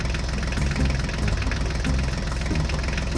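Engine of a truck hauling a tractor, running steadily as it drives on, a loud close chugging rumble with a regular knocking pulse that continues for the whole stretch without talk.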